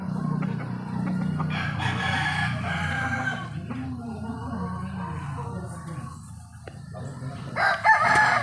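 Chickens cluck and a rooster crows in a backyard flock being moved to a new home, the crowing rising loud and close over low clucking, with voices talking nearby at times.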